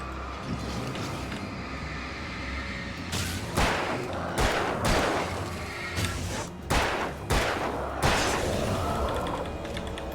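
Repeated gunshots fire in the Alan Wake video game, several sharp bursts spaced over the last seven seconds against a steady, dense background of game ambience.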